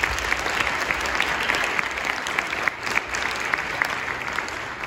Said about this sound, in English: Can we celebrate them with a round of applause, please?